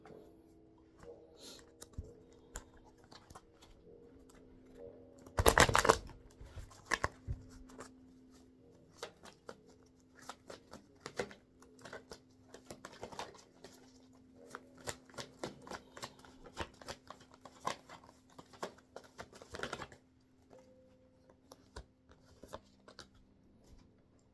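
A deck of affirmation cards being shuffled, with one loud riffle burst and then many soft, scattered card flicks and slides over about twenty seconds, close and quiet, with no talking.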